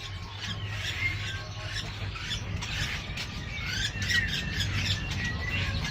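Caged songbirds, including magpie robins, lovebirds, green leafbirds and bulbuls, squawk and chirp in a steady busy chorus with a low hum running beneath, with no talk.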